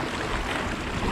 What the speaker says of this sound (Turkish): Dalgalar yükseldi bir anda.